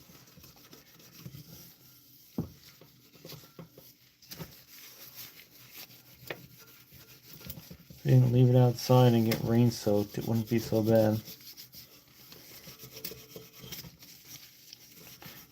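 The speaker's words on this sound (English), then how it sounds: "Polishing my chair." Quiet intermittent scrubbing and rubbing of steel wool on a wooden chair, with someone talking loudly over it in the middle.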